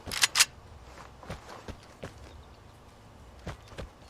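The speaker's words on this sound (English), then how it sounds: "you should hear footsteps to the left" Footsteps in the video game Vigor, a faint series of soft, irregular steps after two louder sharp knocks at the start.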